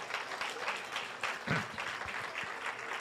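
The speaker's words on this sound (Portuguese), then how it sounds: "A igreja aplaude o Senhor." Church congregation applauding during a service, a steady wash of many hands clapping throughout, fairly close and continuous with one brief louder swell near the middle.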